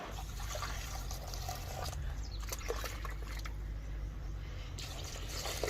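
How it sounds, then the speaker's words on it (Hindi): Water poured onto freshly planted garden plants, a steady soft trickle and splash continuing throughout against a low background rumble. "और भी फ़िलहाल 2-3 चीज़ें जो मैंने लगाई है उसमें पानी दे देते हैं"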